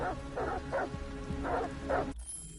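Dogs barking in Detroit: Become Human, a run of five or six sharp woofs in quick succession over a low game hum, cut off abruptly near the end.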